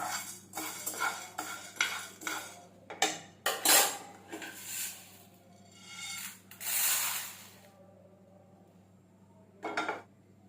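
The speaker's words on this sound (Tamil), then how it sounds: "கடலைப்பருப்பு நல்லா கலந்துருச்சு இப்போ இதையும் நம்ம பிளேட்டுக்கு மாற்றிக்கலாம்" Roasted chana dal for idli powder is scraped from a pan onto a plate, with a run of close metallic scrapes, rattles and clinks, then a longer rustling pour and a last scrape after a brief lull.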